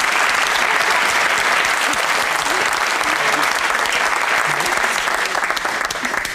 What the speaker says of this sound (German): Also Applaus für unseren mutigen Mann.